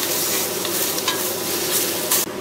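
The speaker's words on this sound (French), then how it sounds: "on rentre la viande dans le plat et on mélange donc avec les oignons" Beef pieces and onions for boeuf bourguignon being stirred in a hot pot: a loud, continuous sizzle with scraping and stirring scuffs, close and steady, ending abruptly.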